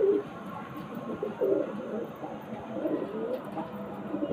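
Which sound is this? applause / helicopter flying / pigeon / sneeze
pigeon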